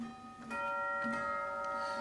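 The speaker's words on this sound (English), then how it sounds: "We have cathedral chimes." A theatre organ's cathedral chimes strike a couple of tubular tones that ring out and sustain with rich, bell-like overtones, moderately quiet and without any voices.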